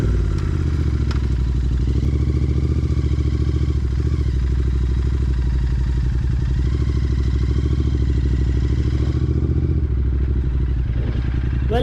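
Royal Enfield Continental GT 650 twin-cylinder motorcycle riding on a winter day in Dubai, a steady loud engine drone with low rumbling throughout and some mechanical clatter, easing off near the end.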